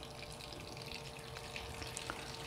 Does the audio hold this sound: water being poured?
yes